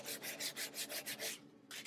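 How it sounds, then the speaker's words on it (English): Hand sanding a wooden push stick, a steady back-and-forth rasp of paper on wood in about seven even strokes, close and moderately loud, with a short pause before a final stroke. "I just need to do a little sanding to refine it a little bit."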